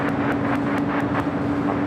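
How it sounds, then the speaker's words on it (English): A Breeze Airways Airbus A220-300 jet at LAX, a loud, steady broadband roar with a constant engine tone, close and unbroken for the whole moment. "That was Breeze Airways flight 708 coming from Pittsburgh. And that Airbus A220-300."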